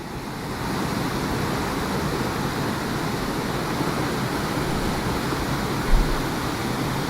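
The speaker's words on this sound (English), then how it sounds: "kind of natural sound from the water moving through there" Floodwater rushing through a village during a flash flood, a steady, loud broadband roar of moving water that holds constant throughout, with a brief thump near the end.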